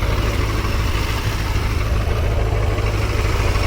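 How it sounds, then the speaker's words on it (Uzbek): Stock motorcycle with a factory catalytic converter idles steadily and close, a low, subdued engine rumble with no talking. "mototsiklni zavod qilib ko'ramiz."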